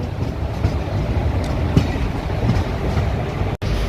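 An Aurangabad–Guntur Express hauled by a WAP4 electric locomotive runs at high speed through forest, with a loud continuous rumble of the coaches, repeated wheel clatter over rail joints and one brief dropout near the end.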